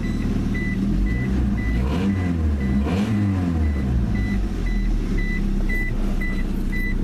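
Inside a JDM Honda Accord, the seatbelt warning chime dings in a regular, evenly spaced series of short beeps over the steady rumble of the running engine, with a brief rise in engine note midway.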